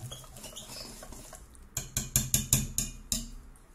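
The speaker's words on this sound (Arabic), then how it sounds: "انا نخلط شويه بالفوي" Hamburger bun dough mixed with a whisk in a bowl, a soft muffled stirring at first, then a run of about eight sharp rhythmic clacks of the whisk against the bowl, close and fairly loud.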